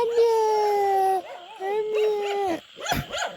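Dogs howl close by in long, sustained wavering tones, followed by a burst of sharper barks and yips near the end.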